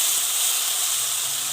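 Tempe gembus stir-fried with bean sprouts in a pan, a loud, steady, bright sizzling hiss close by, continuous and with no talking.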